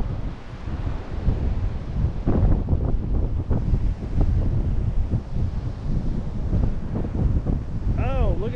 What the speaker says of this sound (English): But it's still pretty windy